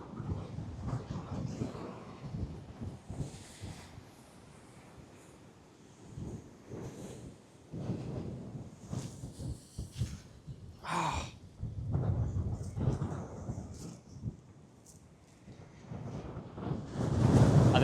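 Massive storm waves crash at Portland Bill, Dorset, during Storm Bram, heard as rolling roars and surges of surf under heavy gusting wind buffeting the microphone.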